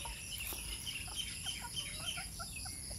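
Bantam chickens and junglefowl in a yard in the early morning, with scattered soft clucks and short calls at a moderate distance over a quiet, hissy background.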